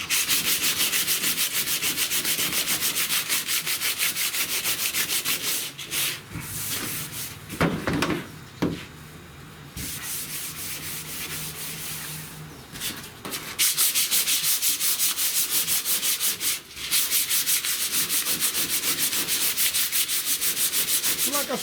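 A DA sander grinds heavy surface rust off the hood of a 1970 Buick Wildcat, a loud steady abrasive roar that dips briefly mid-clip before resuming at full strength, close up with no talk.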